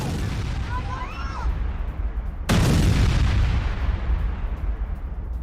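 An air strike in Gaza: a sudden heavy blast bursts in midway and then rumbles on, over steady background roar and some faint voices.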